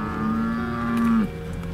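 Cattle in a big herd being moved by ranchers in the Utah backcountry; one loud, drawn-out moo sounds close by against a quiet outdoor background and ends in a downward slide.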